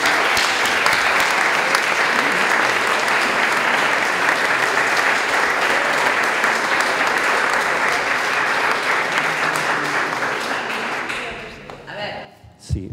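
Sustained applause from a crowd, dense and steady for several seconds before thinning out into a few scattered claps.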